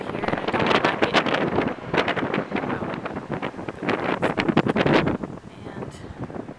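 Heavy wind sweeps over the Salisbury railway viaduct near Somerset, a loud, rumbling roar that batters the microphone in ragged gusts before easing slightly at the end.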